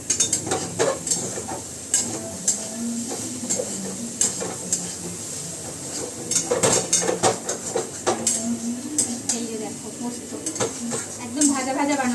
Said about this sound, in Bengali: পিঁয়াজ আলু আর পোস্ত বেশ ভাজা ভাজাই যাবে